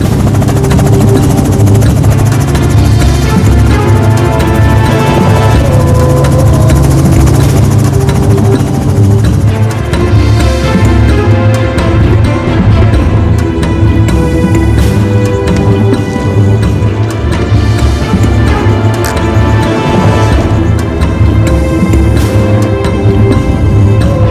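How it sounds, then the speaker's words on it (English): Helicopters hover and fly over the bush near a coal mine during a rhino relocation, their loud, throbbing rotor beat and engine whine filling the air steadily and close by. "the choppers go in search of the last rhino"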